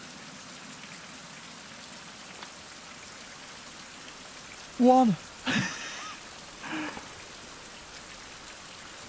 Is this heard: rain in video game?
yes